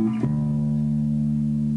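A single sustained D tone rings out on an instrument after a brief attack, holding steady and loud for well over a second with no voices.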